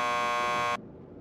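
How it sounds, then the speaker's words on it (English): A door buzzer in the video game Max Payne 2 sounds as a single loud, steady electronic drone for most of a second, then cuts off abruptly to quiet room tone. "Just press the buzzer by the door."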